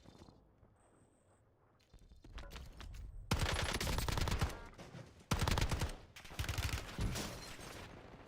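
Rapid automatic gunfire in Warzone, several dense bursts of close, loud shots following a few quieter single reports, with no talking.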